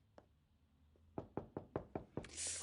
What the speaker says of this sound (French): Ouvre la porte, Grécia.